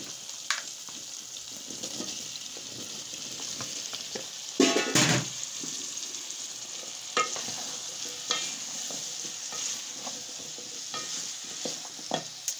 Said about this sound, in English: So I'm just going to add my potatoes and my arrowroots.